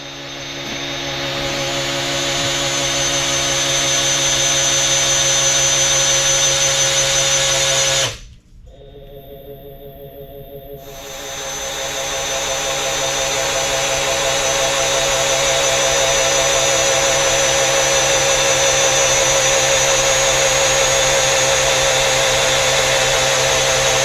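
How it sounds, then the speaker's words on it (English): A power drill spins to prime oil pressure on a big block Chevy 396 in a 1972 Chevelle, a steady loud whine that runs continuously, stops briefly near the middle, then resumes and holds to the end. "I'm going to build some oil pressure on it with the drill"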